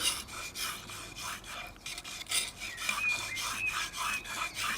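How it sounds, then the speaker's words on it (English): A chisel rubbed back and forth on an oiled sharpening stone, making close, rhythmic rasping strokes that repeat steadily, each stroke a short scraping swish. "move the tool backwards and forth. You try to use the whole area of the stone to make even wear"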